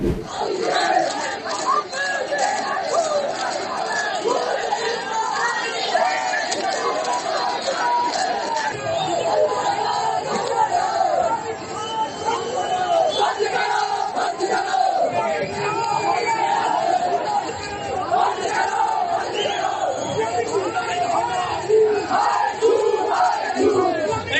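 An angry crowd protests against a mosque, a dense mass of shouting voices and chanted cries that stays loud and agitated for the whole stretch, with no pause in the din.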